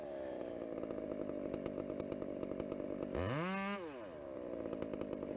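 A chainsaw cuts a tree trunk, making a close, loud, steady engine drone. Midway it gives one sharp rising-and-falling rev, then settles back into the cut.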